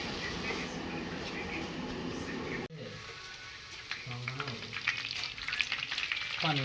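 Spice paste for a homemade biryani fries in a pan with a dense, steady sizzle, then stirring scrapes and clatters through the hiss after a brief break, with people talking over it.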